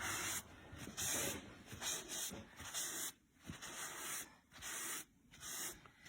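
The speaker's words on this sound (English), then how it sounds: "I'm spraying down a shop towel" A spray bottle wets a shop towel while a piece is being finished with Wise Owl glaze, heard as close, repeated bursts of hiss and rubbing separated by short pauses.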